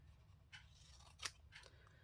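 Scissors snip through patterned paper on a diagonal cut while making a Christmas gift card, giving three quick, crisp cuts over a low steady hum, the middle one sharpest and loudest.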